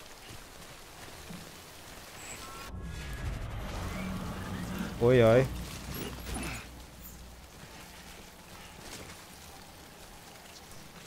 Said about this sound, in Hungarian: Beindult az eső.